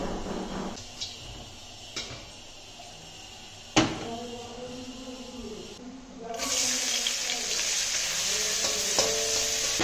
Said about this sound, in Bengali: প্রথমে পেঁয়াজ দিয়ে দিলাম, পেঁয়াজটা একটু লাল লাল করে ভেজে নেবো